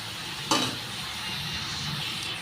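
Salt and turmeric being stirred into pointed gourd in a pan: a soft, even sizzle with one quick scrape near the start, close by and quiet.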